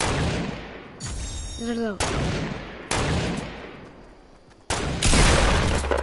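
Fortnite gunfire cracks out in several loud, separate bursts with short gaps and decaying tails between them, and a voice briefly speaks once in the middle.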